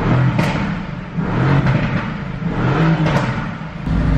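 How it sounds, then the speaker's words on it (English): A supercar engine in race mode with the exhaust open, revved repeatedly in loud surging bursts with crackling exhaust pops between revs, close by. "In race mode, exhaust is open."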